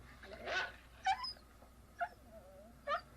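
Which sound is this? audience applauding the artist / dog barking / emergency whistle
dog barking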